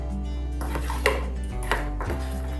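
A raw coconut and vegetable mix is stirred in a bowl with a utensil, producing a few distinct scraping clinks and knocks against the dish over a steady background.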